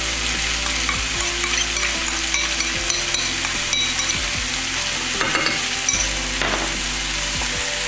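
Beef sizzles as it is stir-fried with XO sauce in a hot pan, a steady loud frying hiss broken by repeated scraping and clinking strokes of the utensil, with no voices.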